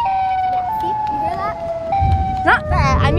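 Siren Head creature from a horror video game wailing in long, wavering siren-like tones that slide and shift pitch, with low rumbling and a sharper rising burst near the end.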